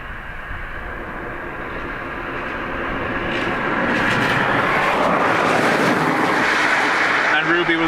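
A Ryanair airliner arriving at Dublin Airport from Grenoble, its engine rumble rising steadily from faint to a loud roar, with a voice speaking over it.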